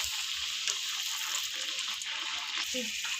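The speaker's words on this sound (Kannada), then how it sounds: "ಬೇಗ ಬೇಗ ನಾವು ಇವಾಗ ಎಣ್ಣೆಯಲ್ಲಿ ಬಿಟ್ಕೋಬೋದು. ಎಣ್ಣೆ ಚೆನ್ನಾಗಿ ಕಾದಿದೆ" Puris made from plain maida dough fry in hot oil, a steady, loud broadband sizzle that fills the whole clip with faint scattered bubbling and no talk.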